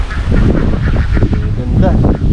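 Farm ducks honk and quack in a noisy, continuous outdoor chorus, loud and close, with bird calls overlapping throughout.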